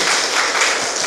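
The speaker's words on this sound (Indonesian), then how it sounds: "Tepuk tangan dulu buat golongan darah B." Applause from a talk show audience, a dense and steady wash of clapping heard close and fairly loud for about a second.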